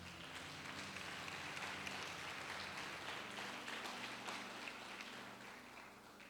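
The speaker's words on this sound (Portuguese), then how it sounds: "Você pode dar uma salva de palmas para Jesus?" Church congregation clapping for Jesus during a Portuguese-language sermon service, steady dense applause filling the room for several seconds, with faint voices and low music underneath.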